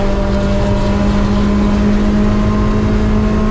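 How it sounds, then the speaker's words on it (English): Race cars in a drag race, engines held at a steady loud drone with a strong low hum and throttle roar throughout, no talk. "It's a drag race"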